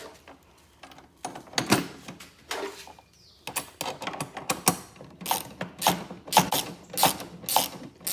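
Ratchet wrench tightening down a Sheffield tool box mounted on a Kioti CK3510SE tractor, repeated close, loud clicking strokes in rhythmic bursts that grow steadier and more frequent toward the end, with no talk.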